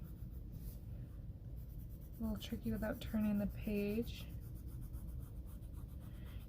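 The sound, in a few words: coloring with pencil on paper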